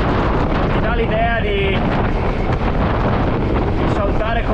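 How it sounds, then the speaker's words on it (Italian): Heavy wind buffets a microphone in a constant roar while riding a Suzuki Address 110 scooter on the road, nearly drowning out a voice talking underneath. "Che vento che c'è, ti dà l'idea"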